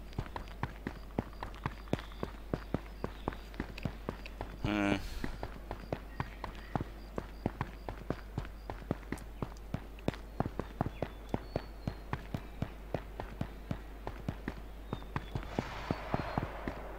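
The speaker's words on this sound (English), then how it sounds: "We have gunfire somewhere." Scattered distant gunshots in the survival shooter H1Z1, faint sharp cracks popping irregularly through the clip amid steady game ambience, with no talking.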